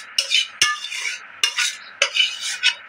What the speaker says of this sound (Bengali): এবার এটাকে চাপা দিয়ে রাখা হবে।